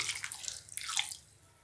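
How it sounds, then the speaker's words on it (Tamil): Water splashes and trickles briefly into a pan of mango kuzhambu, a short pour that fades out after about a second. "இன்னும் கொஞ்சம் தண்ணி ஊற்றுவோம்"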